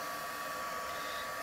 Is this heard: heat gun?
yes